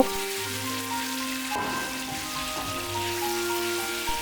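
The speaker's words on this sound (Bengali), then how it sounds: "এবার ফিশ বলগুলোকে তেলে দিয়ে হালকা সটে করে নিব" Fish balls sauté in hot soybean oil with chopped garlic, making a soft, steady hissing sizzle under background music.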